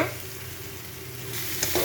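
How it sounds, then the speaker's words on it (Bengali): Fried potatoes and a bhetki fish head go into spiced oil and are stirred, giving a steady, close sizzle with scraping stirs and a brief clatter near the end. "এবারে আলু আর মাছের মাথা ভাজাটা দিয়ে দেব।"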